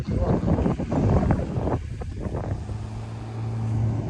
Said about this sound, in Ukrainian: тракторист накручує круги